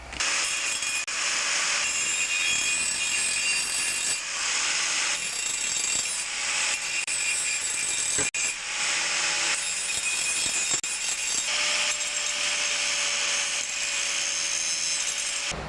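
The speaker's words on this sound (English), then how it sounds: "I'm going to grab a grinder with an actual grinding disc, not a cutting disc, and smooth out all the edges so they're not sharp." Angle grinder fitted with a grinding disc smoothing sharp metal edges on a chainsaw bike build, loud harsh continuous grinding in repeated passes with brief pauses between strokes.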